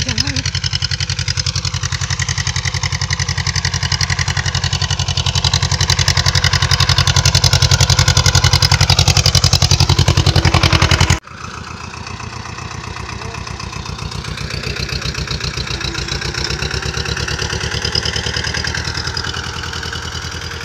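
A heavy tractor engine runs steadily in a field during evening wheat sowing, a loud close chugging drone with a throbbing low pulse that briefly drops and resumes, with people talking over it.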